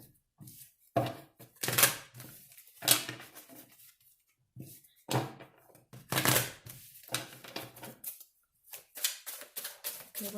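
Soft, irregular bursts of tarot cards being shuffled close by, riffling and slapping in quick clusters with short pauses between.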